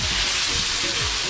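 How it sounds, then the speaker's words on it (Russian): Meat fries in a kazan, a cast-iron cauldron, for kadi-cha. A loud, steady, dense sizzle runs unbroken from start to finish with no voices. "Вот мясо быстро обжаривается."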